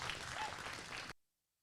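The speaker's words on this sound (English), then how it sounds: "Let's give them all a big round of applause" Audience applause at the Rodeo Austin livestock show for the does in the ring, a brief, fairly faint patter of clapping that cuts off abruptly into silence.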